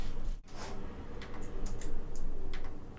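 Computer keyboard typing while coding a 2D game in Java, a close run of light clicking keystrokes over a steady room hum, without speech.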